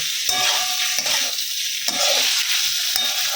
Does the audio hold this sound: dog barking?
no